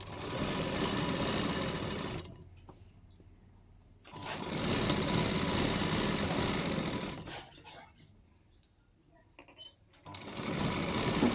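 An electric sewing machine stitches piping onto a blouse lining in steady bursts of rapid whirring, with quiet pauses between runs as the cloth is adjusted.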